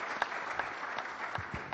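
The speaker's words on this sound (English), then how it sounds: "May I ask the audience to give the organizers a big clap" A conference audience applauds the organizers with steady, dense clapping from many hands, evenly sustained and moderately loud across the room.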